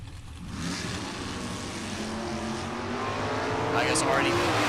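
Drag racing cars launch down the strip at a live big-money event with big-tire, small-tire and index classes, one lifting into a wheel stand; a loud, rising engine roar builds and sustains as it pulls away, with a commentator talking over it.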